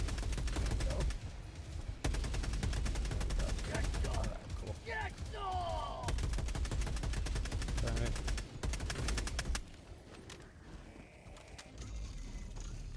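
Liberator Penetrator rifle fire in Helldivers 2: rapid, loud automatic bursts with brief pauses between them, mechanical clatter and game effects underneath, ending in quieter ambience, while a voice talks over it.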